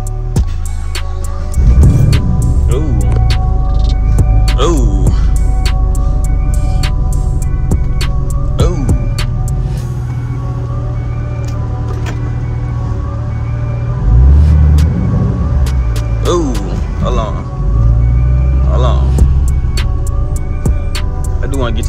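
A Chevrolet Camaro SS with a new motor mount drives along, giving a steady low engine drone and road rumble from inside the cabin, with someone talking over it.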